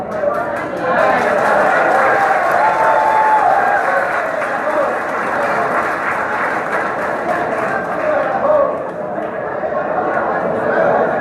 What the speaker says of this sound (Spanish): Fue aplaudido.